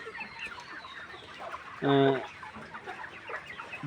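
A layer hen lets out one loud, close cluck lasting about half a second, standing clear above a steady murmur of other poultry in the shed. The flock has eye trouble, with watery, swollen eyes.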